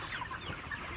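Chickens cluck and chatter continuously inside a poultry farm shed, a dense overlapping flock murmur with no single bird standing out.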